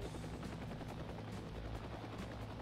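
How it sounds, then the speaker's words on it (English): Helicopter engine and rotor noise in the combat game Heliborne, a steady, loud, dense drone that holds for the whole stretch, with faint crackles of gunfire mixed in and no talk. "I'm more interested in how I make this helicopter go."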